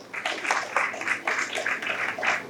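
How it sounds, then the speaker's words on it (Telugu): An audience at a retirement function claps in a steady burst of applause, close and moderately loud, with overlapping rhythmic claps across the whole span and no speech. "మీరు చప్పట్లు కొట్టండి ప్లీజ్"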